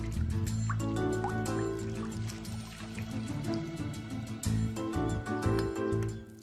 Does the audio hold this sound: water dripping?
yes